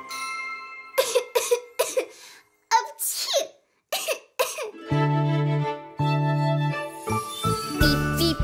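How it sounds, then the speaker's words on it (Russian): Cartoon child character coughing and sneezing in a few short, close bursts, followed by bright cartoon music with chimes. "Кашель, горло болит."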